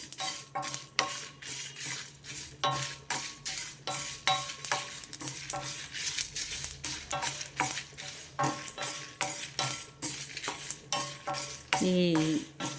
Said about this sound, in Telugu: స్టవ్ ఆపేసాను నేను నువ్వులు వేసుకున్నా ఆ వేడికే నువ్వులు వేగిపోతాయి